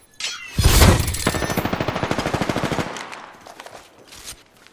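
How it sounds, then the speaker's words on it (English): Automatic gunfire in Apex Legends, a loud, rapid, even burst of shots hammering out for about two seconds, preceded by a heavy blast and followed by a few fainter scattered shots. "They're shooting at me!"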